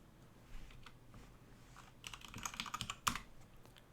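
Keys clack on a computer keyboard at a Linux terminal, scattered taps at first, then a quick close run of keystrokes ending in one sharper, louder strike of the enter key.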